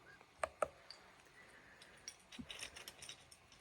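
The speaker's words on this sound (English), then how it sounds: "while I put the keys back on" Plastic keycaps are pressed back onto a keyboard during reassembly: two sharp close clicks early, then a quieter cluster of small snaps and taps, all faint and near.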